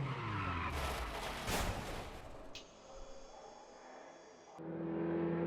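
Porsche 944 Cup race car in the RaceRoom racing game on the Nürburgring, tires skidding and squealing as the car loses grip, with a loud engine roar and a sudden impact-like burst before an abrupt change in sound.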